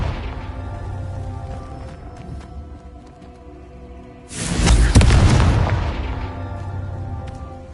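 A Confringo spell explosion in the Hogwarts Legacy video game: a low hum of ambience gives way to a sudden loud, booming blast midway that rumbles and decays over a couple of seconds.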